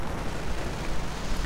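Sticky bomb explosions in a World War II strategy video game, a thick rumbling roar of blasts blending into one sustained wall of noise, loud and unbroken, with no talking.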